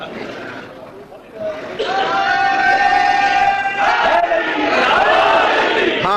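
A crowd at a religious gathering chants slogans in loud unison, rising suddenly after a quieter murmur and holding steady, close and full-voiced.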